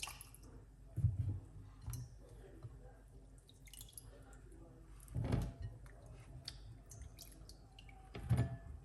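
Beets being rinsed under running water in a sink, a low steady trickle broken by three short splashy bursts as the roots are handled, with a voice talking over it.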